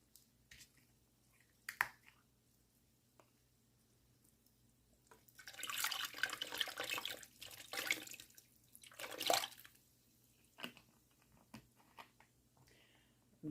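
Orange juice poured for a Christmas ham, a faint splashing pour of a few seconds in the middle, surrounded by quiet drips and small clicks, with no talking.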